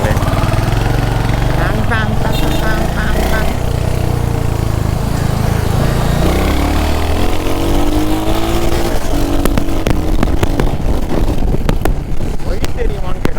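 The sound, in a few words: Royal Enfield Hunter 350 motorcycle engine while riding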